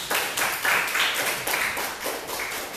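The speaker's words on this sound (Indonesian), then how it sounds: "Tepuk tangan dulu." A classroom audience at a university teacher-training session clapping for a group after its presentation, a dense round of applause from many hands, fairly loud and nearby, with no talking.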